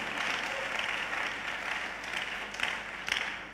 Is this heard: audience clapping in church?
yes